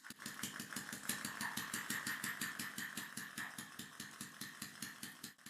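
A small piston engine driven by liquid air spins fast, its regular mechanical chuffing and clicking pulse with a hissy exhaust, close and continuous.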